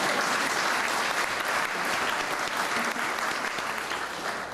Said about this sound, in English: Should we give Matt a round of applause for his list?